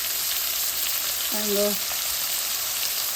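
Curry leaves sautéing in hot oil for a cabbage stir-fry, a steady broadband sizzle running throughout at an even level, with a brief tonal voice-like sound rising in the middle.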